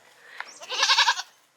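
Goat bleating on Camiguin in the Philippines: one close, fairly loud wavering bleat, rising and pulsing for about half a second before fading, with quiet surroundings.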